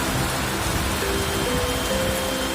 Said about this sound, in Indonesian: Hujan berserta angin.